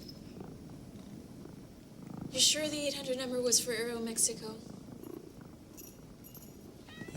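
A domestic cat purrs softly and steadily as a low rumbling drone, quiet and close beneath a man's and a woman's dialogue that dominates the middle of the scene.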